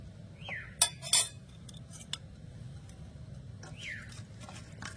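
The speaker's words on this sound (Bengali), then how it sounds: "আমি এরকম একটা বাটি হাতা দিয়ে এরকম করে একটা ছাকনার মধ্যে আমি এরকম করে তুলে নেব" A metal ladle scoops crisp, thin fried chanachur into a strainer, making a couple of bright metallic clinks and scrapes over a low, steady background hiss.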